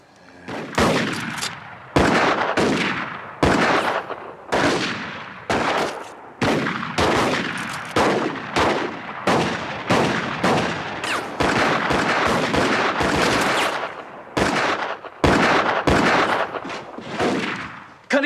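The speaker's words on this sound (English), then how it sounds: "What kind of gun is that? One of them new autoloaders." Rapid volleys of rifle fire from new autoloading guns in a western gunfight crack out loud and close, shot after shot in repeated bursts for the whole stretch.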